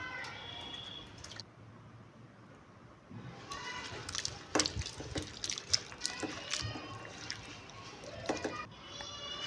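Water splashing and trickling into a pressure cooker that holds chopped potatoes, cauliflower, carrot and beetroot, with a quieter stretch before steady pouring and clattering resumes close by.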